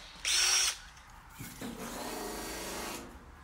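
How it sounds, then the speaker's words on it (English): Power drill working on a 1961 VW split-screen Kombi roof repair: a short high-pitched whirring burst, then a longer lower-pitched drilling drone that grinds on for about a second and a half. "Drill."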